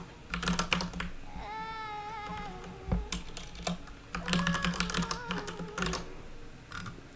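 Computer keyboard typing in short uneven bursts of close clicks, with a brief tonal electronic chirp mixed in and a low hum underneath.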